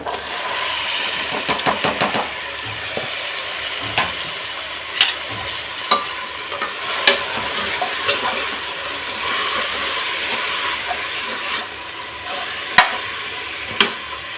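Knol khol, carrot, potato and beans fry in hot oil for vegetable palav, a steady close sizzle broken by regular scraping knocks of a spoon stirring against the pan.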